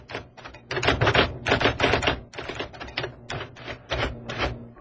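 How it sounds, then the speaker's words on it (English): A manual typewriter clatters through rapid, uneven strings of loud, close keystrikes in a repair and ribbon shop, the bursts broken by brief gaps and no speech over them. "Anyone in your household use a typewriter?"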